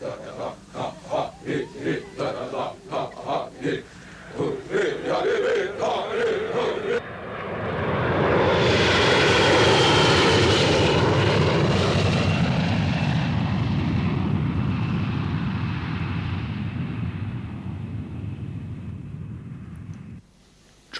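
A low-flying reconnaissance airplane passes over an indigenous village, its engine drone swelling to a loud, sustained roar for over ten seconds before fading away, preceded by faint chanting voices.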